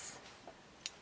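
Scissors make a few faint, brief snips while cutting a notch into the fabric at a garment's neck edge, quiet and close, with no voices.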